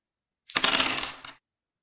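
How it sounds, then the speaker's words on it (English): Dice rolling in a computer dice game, a single short burst of clattering rattles lasting under a second, close and clean against silence. "player one just press roll dice to roll all the dices."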